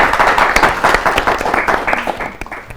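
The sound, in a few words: applause for students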